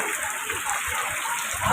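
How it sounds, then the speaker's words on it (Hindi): Torrential rain pours down steadily in Korba district, a dense, continuous hiss of falling water that stays loud and even from start to finish with no voices. "आज हमारे कोरबा जिले में मूसलाधार बारिश हो रही है"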